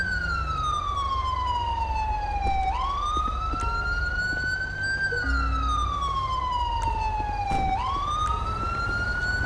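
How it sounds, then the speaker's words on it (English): Police SUV siren in GTA V with the LSPDFR mod, a sheriff's deputy vehicle, wailing in long rising and falling sweeps, loud and close, over a low idling engine rumble, with no talking. "we're going to have to deal with his siren for a few minutes because that's the way this game is"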